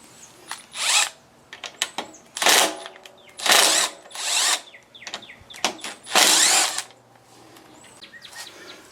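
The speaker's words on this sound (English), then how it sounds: "I'm going to use a 5/16 socket to get these out of there." A power driver with a 5/16 socket backs carburetor bolts out of a Craftsman M430 mower, loud close whirring bursts separated by short pauses and small clicks.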